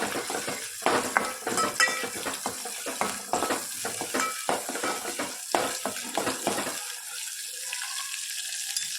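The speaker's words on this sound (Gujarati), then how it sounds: "ડુંગળી અને લસણ થોડી વાર થવા દઈએ પછી આગળ કરીએ." Onion and garlic sautéing in a hot pan, with steady close sizzling and frequent stirring scrapes and clinks of a utensil against the pan, ending in a quieter continuous fry.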